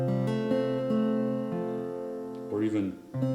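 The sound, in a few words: guitar hammer-on on second finger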